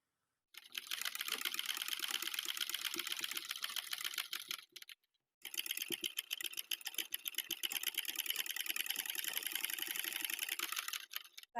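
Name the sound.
sewing machine stitching neckline of plazo dress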